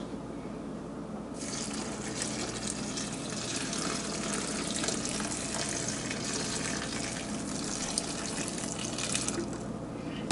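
Hot water mixed with melted butter pours steadily into a bowl of stuffing mix, a continuous splashing gush that starts after a moment, runs for several seconds, then stops, with no talking.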